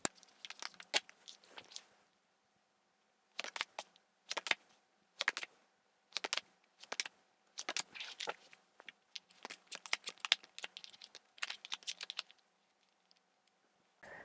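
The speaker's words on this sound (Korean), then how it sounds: "추가 카드 한번 뽑아 볼게요." Tarot cards are shuffled and drawn in a quiet room, giving close, crisp bursts of flicking and riffling clicks separated by short silences, with no voices.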